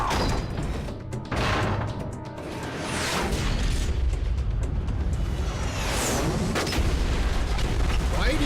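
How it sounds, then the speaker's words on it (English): Missile explosions in a video game, dense and loud booms and crashing blasts rolling over one another with whooshing debris, continuous throughout. "Why do things keep exploding?"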